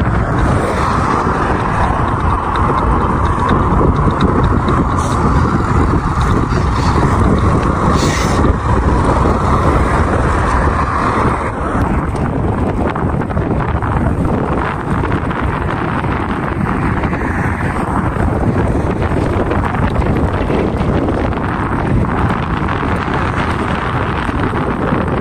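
Strong wind buffets the microphone continuously on a snowy cold-weather road trip in Heilongjiang, a loud, steady roar with gusting swells throughout and no talking.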